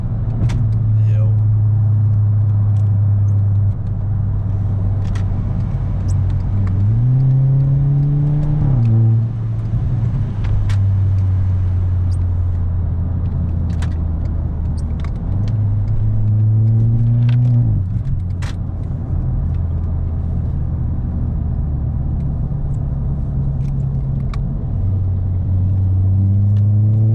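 A stock Volkswagen MK5 GTI with a resonator delete drives at night, its engine droning steadily from up close with rising revs and gear changes coming through in swells.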